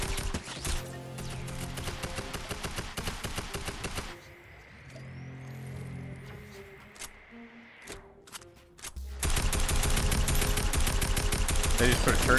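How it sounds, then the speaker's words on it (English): A turret in the video game Fortnite fires in rapid bursts of rhythmic shots, loud and close. The fire cuts out briefly and then resumes, and a voice speaks during the lull. "They just put a turret down or something."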